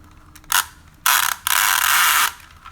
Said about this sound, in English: It does make a horrible sound though when you're pulling the winch out from its mouth